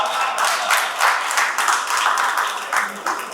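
An audience claps through a steady patter of applause at a poetry event. It sounds dense and continuous, with rises and dips, and no speech over it.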